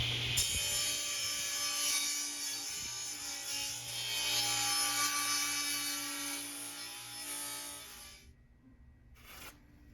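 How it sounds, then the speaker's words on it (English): Reclaimed oak from a century-old piano roughed into a cylinder for a lampshade top, likely on a lathe: a steady loud grinding, rasping wood-cutting sound for about eight seconds, then stopping with a brief burst near the end. "Here I'm roughing out the cylinder for the top of the lampshade."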